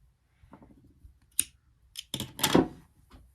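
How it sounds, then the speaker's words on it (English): Scissors snip the frayed end of yarn with a few sharp, close, quiet clicks, the loudest cut coming near the end, with light handling rustle and no talking. "It's a little frayed, I'm just going to snip the end."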